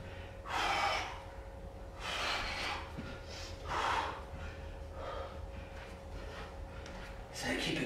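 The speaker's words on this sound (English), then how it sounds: "Keep breathing in through the nose, out through the mouth." Heavy workout breathing during a home bodyweight bootcamp session: loud, rhythmic breaths in through the nose and out through the mouth, recurring about every couple of seconds, close to the microphone.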